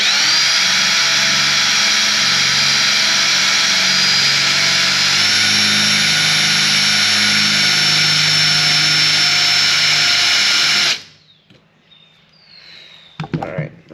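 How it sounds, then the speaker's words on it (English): Power drill boring into a rusted bolt with a 1/8 inch bit, after penetrating oil, on a Mitsubishi Evo 8 engine under rebuild; a loud, steady whine runs for about eleven seconds, shifts pitch midway, then stops, leaving faint handling clatter. "Okay, so I have an 1/8 inch drill bit."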